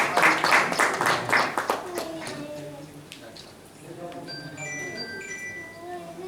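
An audience at a doctors' meet in Jaipur claps for the special guests, a burst of dense applause at the start that quickly thins out and fades under someone speaking over a microphone.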